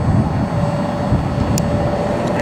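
Airbus A320 airliner at Cleveland airport, a steady broadband jet engine roar with a faint continuous whine, close and loud throughout with no talk.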